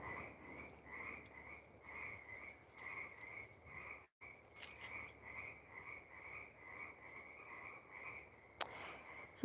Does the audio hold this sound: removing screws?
no